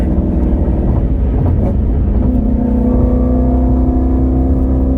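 A Ford Mustang GT350 driven hard, its engine roaring loudly and steadily throughout, with a tonal shift midway as the car comes off the throttle under braking.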